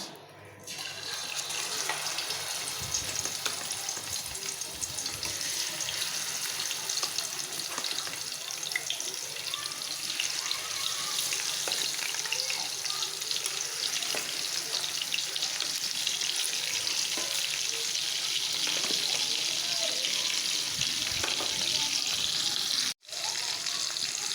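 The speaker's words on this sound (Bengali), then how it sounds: "এই যে এখানে আলুটা কষানো বহাই দিছি হলুদ মরিচ ধুইনার গুঁড়া" Potatoes fry in oil with turmeric, chili and coriander powder on an outdoor stove, giving a steady, loud, broadband sizzle that runs unbroken for the whole stretch with no talking, ending in a brief dropout near the end.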